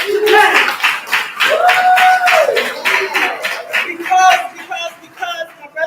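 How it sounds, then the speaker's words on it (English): Conference audience claps in uneven bursts while people whoop and cheer loudly over the clapping, the noise swelling and dipping. "A round of applause for being here today."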